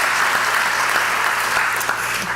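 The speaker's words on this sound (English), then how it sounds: "so let's give a round of applause for Harlandale for hosting us" An audience claps for the Harlandale school district at a San Antonio event announcing NCAA Final Four weekend, a dense, steady round of applause from a sizable crowd that runs the whole time without pause.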